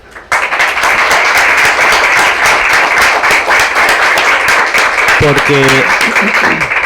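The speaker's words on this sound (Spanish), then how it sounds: "yo les pediría un fuerte aplauso" Loud, sustained applause from a conference audience fills the space, steady dense clapping throughout, with a brief voice-like tone near the end.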